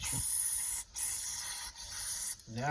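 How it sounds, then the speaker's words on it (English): Sharp pressurized hiss of an aerosol spray in several bursts through a Troy-Bilt XP generator carburetor jet, with short pauses, close by, ending with a brief squeaky tone. "Now I'm able to spray it."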